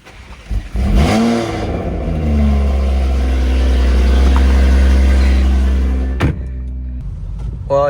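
A BMW M340i on drag radials accelerates hard from a launch, the engine note rising in a long loud climbing rev before a sharp drop near the end, heard close and alone.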